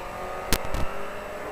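A KTM Duke motorcycle on a track is heard close, its engine droning steadily with two short sharp bursts as the throttle opens.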